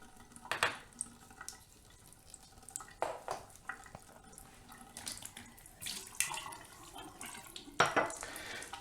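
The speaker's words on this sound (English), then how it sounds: "we're just flushing out this membrane" Water flushes through a reverse osmosis membrane in a DIY filtration setup, heard as faint, irregular trickling and splashing bursts with quiet gaps between them.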